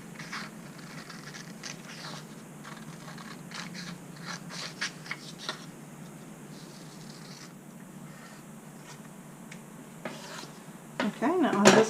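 Scissors cutting along a line on a paper bra pattern, with soft repeated snips and paper rustles close by through a steady low room hum and a few louder handling sounds at the end.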